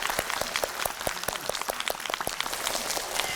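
Studio audience applauding on a Korean talk show, the Kim Chang-ok Show season 3: a dense patter of many hands clapping together, steady and moderately loud throughout with no talk over it.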